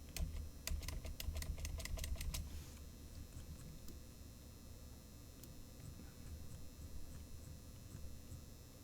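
A quick burst of keyboard typing, a dozen sharp clicks in the first few seconds, then only a low steady hum.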